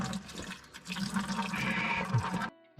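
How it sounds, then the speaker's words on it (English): Old diesel fuel drains from a Ford 2701E diesel tractor, a faint, continuous trickling and gurgling liquid pour that stops abruptly near the end, with no talking. "while we're draining old diesel"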